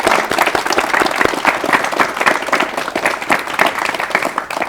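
A television studio audience applauds to welcome retired women's basketball star Park Chan-suk, a steady, lively round of many hands clapping with distinct individual claps throughout.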